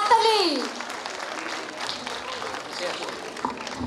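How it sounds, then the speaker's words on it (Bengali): A gathering honouring successful students breaks into applause: dense clapping that starts loud and continues steadily, with voices mixed in. "জোরে হাততালি।"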